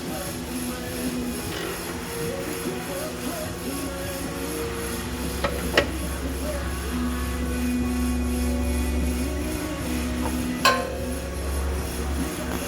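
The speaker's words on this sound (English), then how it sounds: "is turning a brake drum, and that's the grinding noise you're hearing" In a repair shop, a brake drum turns on a lathe, making a continuous low mechanical hum and grinding drone, broken by a couple of sharp metallic clicks.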